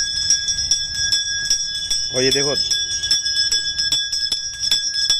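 A temple bell rings steadily at the Shri Giriraj Dharan Govardhan Nath shrine in Mohan Bagh, Mathura, during evening worship. Its bright strikes repeat in a quick rhythm with a sustained metallic hum, and someone speaks briefly over it.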